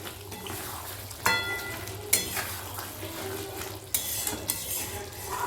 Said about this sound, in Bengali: কিছুক্ষণ বাদে আমি ঢাকনাটা খুলে একবার মাংসটা নেড়ে দেব।